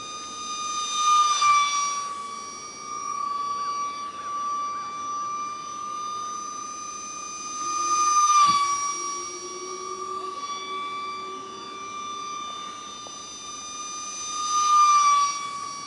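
An ultra micro foam RC Eurofighter model jet with thrust vectoring makes low passes, giving a steady high electric whine that swells and fades as it passes close several times.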